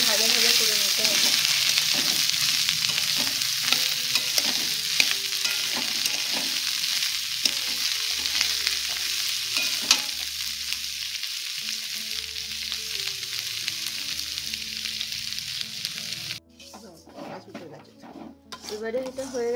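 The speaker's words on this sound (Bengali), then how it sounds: "ভালো করে ভাজা ভাজা করে নিতে হবে।" Vegetables fry with a steady, loud sizzle in a hot pan with a little ginger, while a spatula scrapes and stirs in repeated strokes; the hiss drops away sharply near the end, leaving quieter clatter.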